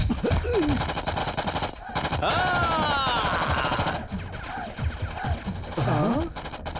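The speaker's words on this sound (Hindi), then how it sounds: "इतनी देर से मैं दीवार पे गोली चला रहा था" Gunfire in a Hindi-dubbed South Indian action movie, rapid loud bursts of shots against a wall mixed with dense music and effects, with whistling ricochet-like tones over the top.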